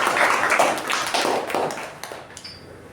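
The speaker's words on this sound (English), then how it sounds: "a huge round of applause to TTM member and Toastmaster Jyothi" Toastmasters meeting audience applauding a member, a short burst of close clapping that fades within a few seconds, with a light ping near the end.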